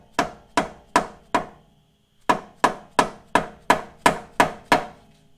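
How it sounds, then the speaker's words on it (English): A series of sharp, evenly paced rubber hammer blows on a 2013 Chevrolet Tahoe front suspension part, four, a short pause, then seven more, close and solid with a dull thud. "Got a rubber hammer."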